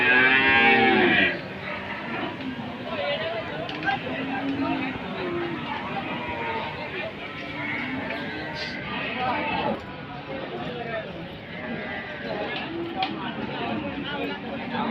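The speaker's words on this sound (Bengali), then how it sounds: "খুব সুন্দর বিশাল আকৃতির গরু এখানে বাঁধা আছে" Large cattle tethered at a village livestock market moo, with a loud low bellow at the start followed by steady crowd chatter and a person talking throughout.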